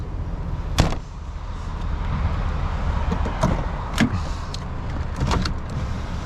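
Power window motor on a black 1998 Chevy Suburban 4X4 with tinted glass, a steady low whir running the whole way down, close by, with a few sharp clicks and knocks along the way.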